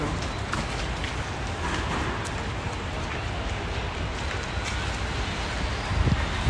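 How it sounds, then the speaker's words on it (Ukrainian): Steady rain falls outdoors as a dense, even hiss with wind noise buffeting the microphone, continuous throughout with no voices heard. "Ось так от дощ іде, але ми працюємо"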